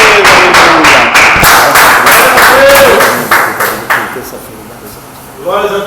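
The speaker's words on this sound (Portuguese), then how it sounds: "A salva de palmas bem forte para o Senhor" Church congregation clapping together in a brief burst of rhythmic applause, loud and close, which fades out as a voice begins speaking near the end.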